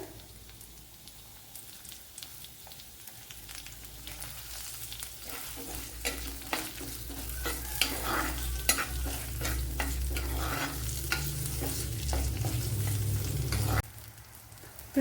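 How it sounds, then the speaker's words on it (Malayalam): Garlic cloves and curry leaves fry in a pan for a chicken curry, crackling and sizzling loudly while a utensil stirs with repeated scraping clatter, the hiss building toward the end. "ഒരു പത്തല്ലി വെളുത്തുള്ളി കുറച്ച് കറി ലീവ്സ് കൂടെ ഇട്ട് കൊടുക്കാം"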